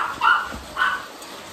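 A pet dog barks twice indoors at a house, each bark a short, moderately loud yelp with a pause between, as if reacting to something outside near the laundry area.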